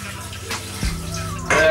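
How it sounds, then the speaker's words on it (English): A kitchen tap runs steadily into a sink, a soft continuous splash with a brief louder gush near the end, heard close up. "So the tap's been running for a bit."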